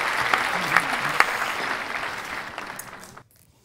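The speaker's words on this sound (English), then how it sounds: "The applause is added in." A crowd's applause, added in editing, rings out as a dense, steady patter of clapping that gradually fades and then cuts off abruptly near the end.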